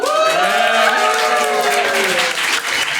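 Audience clapping at a Hot Ones-style interview with the GCC Italy Missions team, a steady wash of applause lasting the whole moment, with music or voices layered underneath.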